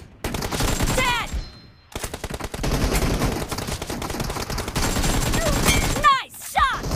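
Rapid gunfire in the mobile battle-royale shooter BGMI during a team deathmatch: sustained automatic bursts and repeated shots, loud and close, broken by a short pause, with team voice callouts mixed under the shooting.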